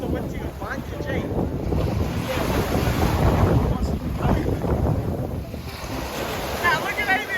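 Strong gusty wind buffets the microphone outdoors at a youth Easter camp in Te Tai Tokerau, a continuous rumbling roar that swells and eases across the whole stretch with faint voices beneath it.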